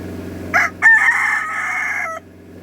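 A five-year-old rooster gives one loud, close crow, a short opening note followed by a long sustained call that cuts off cleanly.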